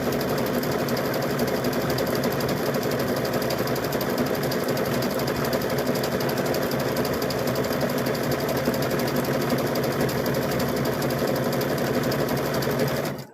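A sewing machine stitching through rope and fabric runs loud and close in one continuous, steady mechanical whir with a fast rhythmic chatter, never pausing until a brief stop at the end.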